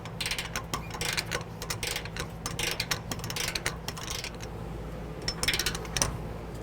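Trailer hitch bolts on a 2008 Dodge Ram 1500 being tightened with a torque wrench, giving bursts of quick ratcheting clicks close by with short pauses between and no talking.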